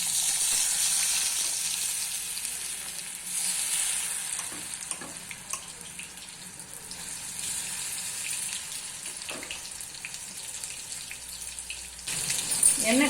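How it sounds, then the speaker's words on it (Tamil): Marinated mushroom pieces for mushroom 65 deep fry in hot oil. A steady, bubbling sizzle runs throughout, punctuated by occasional crackles and pops close by. "இப்படி பார்க்கும்போதே தெரியும் நமக்கு அது ஃப்ரை ஆகிறது"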